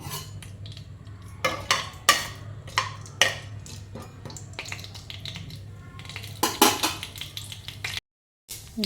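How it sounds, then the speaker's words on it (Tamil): Mustard seeds and urad dal splutter in hot oil, giving a run of sharp pops and crackles over a low steady hum, with louder bursts toward the end before a brief silence. "கடுகு உளுத்தம்பருப்பு கொஞ்சம் பொறிஞ்சு வரட்டும்"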